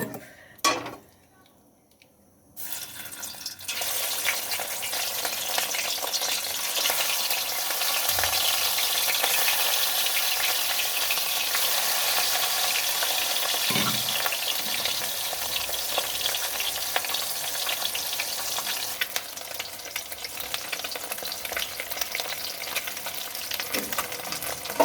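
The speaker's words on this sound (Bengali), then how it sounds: "এবার আমি একে একে মাছগুলো ছেড়ে দেব।" Fish slide one by one into hot oil in a wok, a faint opening followed by an even, continuous sizzle that holds steady for more than twenty seconds, with occasional light clinks.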